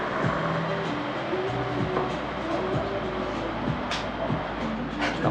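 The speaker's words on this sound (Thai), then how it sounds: "ถ้ามาตรงเวลา กับรถไฟก็จะเห็นรถไฟนะครับ วิ่งสายนี้เลย กรุงเทพเชียงใหม่นะครับ" A train on the Bangkok–Chiang Mai line rumbles steadily past close by, wheels clattering rhythmically over the rails with a continuous heavy roar.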